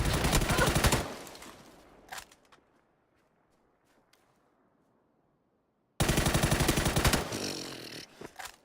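Rapid bursts of automatic gunfire in PUBG, loud and dense at the start, then a lone shot and a quiet lull before another heavy burst of sustained fire.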